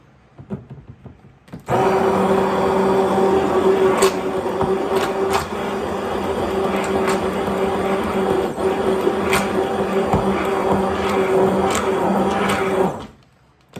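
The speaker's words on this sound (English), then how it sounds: "You can turn up your blender now." A blender whirs steadily at higher speed mixing a lotion made with hydrosol in a measuring cup, a loud continuous motor hum with a few ticks, starting abruptly and cutting off near the end.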